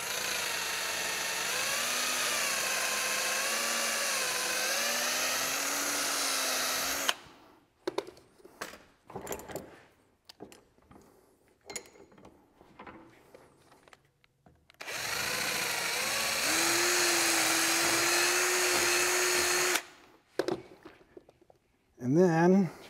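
Power drill reaming out a hole in a baffle for an MGB oil pan, two long whining bursts with the motor pitch rising under load, separated by a gap of shuffling and handling noises, with a final short burst.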